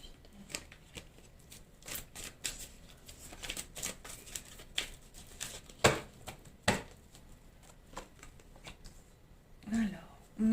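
Tarot cards are shuffled and drawn, with irregular soft riffles, flicks and taps close by under quiet talk.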